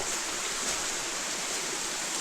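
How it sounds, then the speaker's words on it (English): A forest stream rushes steadily over rocks amid fall woods in Pisgah National Forest, a continuous broadband wash of water that stays loud and even throughout, with no voices. "This stream cuts into a few pieces."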